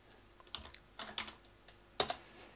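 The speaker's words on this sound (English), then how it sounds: "typing in the name of the kit" Light clicks of keys on a computer keyboard, a few quick taps in small clusters, quiet and close, ending with a sharper double key press.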